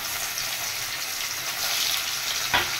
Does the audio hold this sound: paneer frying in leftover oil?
yes